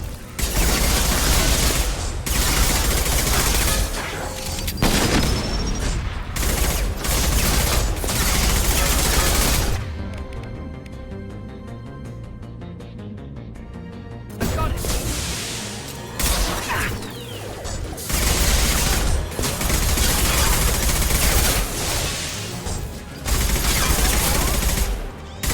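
Gunfire from Mass Effect Legendary Edition 2, with loud, dense bursts of weapon fire in repeated volleys, a brief lull in the middle, then renewed heavy shooting.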